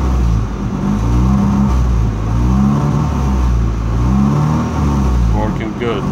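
A car engine revs up and down after a CNG kit install, swinging between idle and about 1,500 rpm in repeated low, rumbling cycles. Someone talks over the engine throughout.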